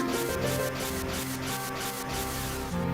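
Strong gale wind from The Legend of Zelda: The Minish Cap, a steady broadband whooshing rush with faint pulsing gusts and a low tonal game hum underneath, continuous and fairly loud throughout.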